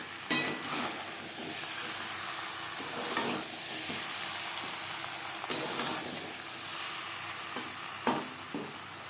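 Potato and pointed gourd being sautéed with spices in a pan, a steady sizzle with repeated scraping stirs of the spoon at irregular intervals, close and clear with no voices.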